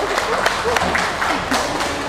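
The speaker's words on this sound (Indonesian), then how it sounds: "Beri tepuk tangan boleh." Scattered classroom applause greets a presenting group, with many hands clapping unevenly in a short burst and voices murmuring among them.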